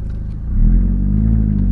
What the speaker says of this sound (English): And I know you can hear it because it's crazy. The exhaust.